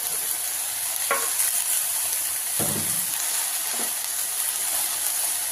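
Ivy gourd, green chili and tomato pieces with tamarind, salt and turmeric fry in a pan under a steady hiss, broken by a few scraping stirs of a spoon.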